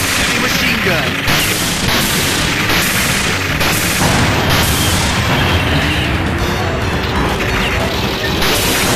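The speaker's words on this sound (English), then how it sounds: "Heavy machine gun." A heavy machine gun in Metal Slug fires in loud, harsh bursts of rapid shots. Crashing impacts and blasts pile into a dense, constant din of arcade combat.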